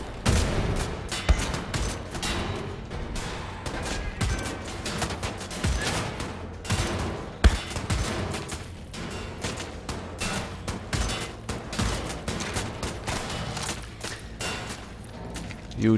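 Shotgun blasts from an enemy in a World War shooter game against Nazis, sharp repeated reports over ongoing battle noise, with loud peaks near the middle and end.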